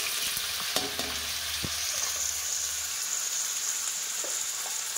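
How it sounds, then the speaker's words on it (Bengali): Pre-boiled mixed vegetables drop into hot refined oil, giving a continuous close sizzle with scattered light clicks and scrapes from the pan throughout. "তেল গরম হয়ে গেছে। আগে থেকে বানিয়ে রাখা সবজিগুলো তেলের উপর দিয়ে দিলাম।"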